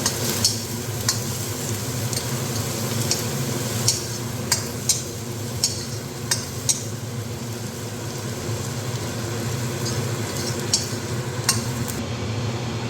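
Garlic and ginger fry in a pan for carrot pickle, making a steady close sizzle. A utensil stirs and taps against the pan with a dozen or so sharp clinks spread unevenly through the frying. No one speaks.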